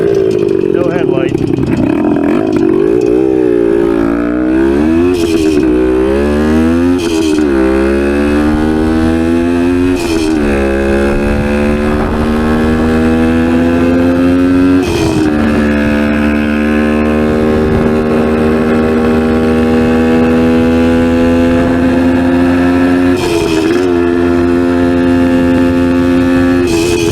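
A 1971 Yamaha AT1 125cc two-stroke motorcycle with a dead battery revs loudly and up close, climbing and falling through several throttle blips before settling back toward a steady, buzzy idle.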